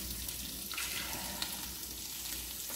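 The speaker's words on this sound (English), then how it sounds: "while I am actually frying this meat up" Steady crackling sizzle of meat frying in a pot for Hoppin' John, continuous and close, with a few faint clinks.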